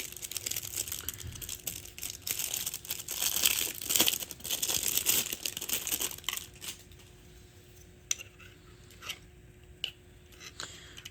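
A handheld radio is pushed into a stiff, cheap plastic belt-clip holster, making bursts of crinkling and scraping plastic friction for several seconds, followed by a few sharp isolated clicks and taps as it seats, close by with no talking.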